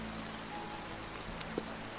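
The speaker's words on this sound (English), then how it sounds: "I am really enjoying the rain" Soft, even patter of rain falling in Roblox Lumber Tycoon 2, quiet and unbroken, with a single small tap near the end.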